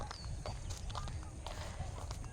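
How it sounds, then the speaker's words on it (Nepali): Footsteps on a road, steady walking paces with a clip-clop quality over rumbling outdoor noise; a voice murmurs faintly in the background. "अहिले चाहिँ हामी बाटोमा हिँडिराखेका छौँ"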